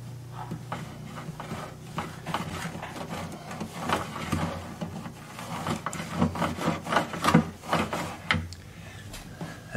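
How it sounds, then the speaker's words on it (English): A small brush rubs glue along an internal wooden brace inside a handmade acoustic guitar under repair, giving irregular scratchy strokes and soft wooden scrapes that grow busier toward the end. "I can make the brush rub along the brace"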